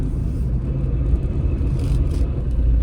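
A car drives along a forested hill road in Morni Hills, a steady low rumble of engine and tyres heard from inside the vehicle, continuous and fairly loud with no voices.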